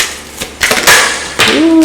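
Tarot cards being shuffled, giving short papery riffling bursts that build into a louder flurry near the end, close and fairly loud with no talk.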